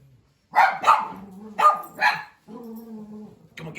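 Several dogs barking close by in loud, sharp bursts, a rapid cluster of barks followed by a lower growl-like sustained bark and another bark, with no talk.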